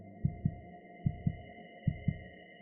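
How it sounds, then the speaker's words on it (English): Three pairs of low, thumping heartbeat pulses in a steady lub-dub rhythm, close and clear over a faint constant hum. "Drums are the ancient echo of our most vital rhythm, the heartbeat."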